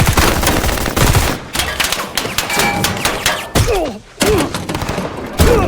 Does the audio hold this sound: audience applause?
no